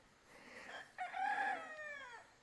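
A chicken stranded on a rural bridge work site gives a faint, distant crowing call, a drawn-out warbling cry that rises in the middle and tails off, with no talk over it.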